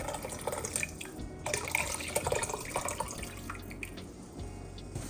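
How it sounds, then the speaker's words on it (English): Broth poured from a container into a mixing bowl while making from-scratch brown gravy, a steady close splashing and trickling of liquid with small drips, lasting several seconds in a quiet kitchen. "I'm going to pour my broth back into my mixing bowl."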